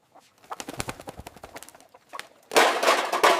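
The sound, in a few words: rooster crowing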